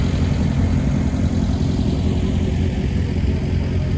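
A BMW 320 race car idling at a hillclimb start line in a historic class, a steady loud low engine rumble and whir held evenly throughout with no voices.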